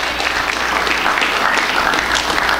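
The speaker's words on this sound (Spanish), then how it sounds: "¿qué pasó con los aplausos?" A church congregation applauds during a sermon, bursting into loud, thick, continuous clapping that fills the room from start to finish.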